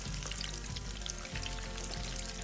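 Tofu cubes deep-frying over high heat in a wok of hot oil during a second fry: a steady, dense crackling sizzle holding at an even level, with no talking.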